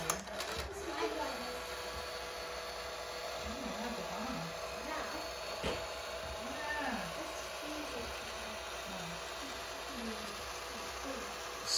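A small can motor whirs steadily inside a Tomy Verbot toy robot, a faint mechanical hum running through the whole stretch while a voice talks over it with occasional short pauses.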